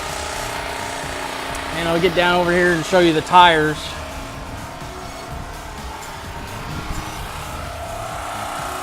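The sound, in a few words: portable generator running beside an RV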